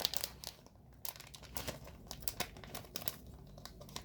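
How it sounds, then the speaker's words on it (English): A plastic bag crinkles and rustles as Bandai Pikachu model kit parts are pulled out, close and fairly quiet, in irregular bursts of crackling handling noise with no talk. "Let's get them out of the plastic bag to get a closer look."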